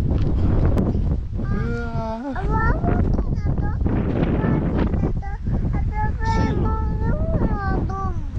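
Strong wind buffets the microphone outdoors near windmills, a loud, constant low roar running the whole time beneath a person's continuous talking.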